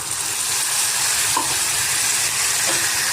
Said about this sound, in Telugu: చింతపండు వేస్తున్నానండి.